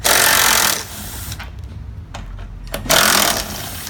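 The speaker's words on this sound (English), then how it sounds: "You can always use a drill to back out." A power drill backs out 10mm bolts holding a Jeep Wrangler JL headlight housing, with two loud, close whirring bursts at the start and end and a quieter pause between them.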